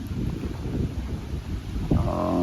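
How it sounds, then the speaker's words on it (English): Low, blustery rumble of strong Halloween yard-haunt storm wind buffeting the microphone, steady with surging gusts, ending in a louder tonal whoosh. "So we're getting some pretty good gusts."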